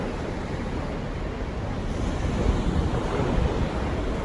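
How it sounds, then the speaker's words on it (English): Ocean waves roll steadily onto the southeast coast of Japan, a continuous close wash of surf mixed with wind buffeting the microphone, growing slightly louder partway through, with no voices. "this should be nice with the waves rolling in"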